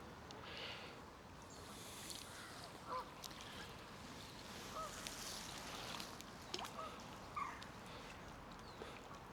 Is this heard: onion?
no